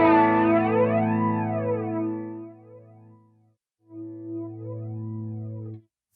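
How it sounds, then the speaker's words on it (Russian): An electric guitar runs through flanger mode 2 of a TC Electronic Dreamscape pedal, ringing out two sustained chords with a swooping, jet-like sweep; the first decays away, then a second chord follows after a short silence. "Фленджер номер 2 довольно забавный."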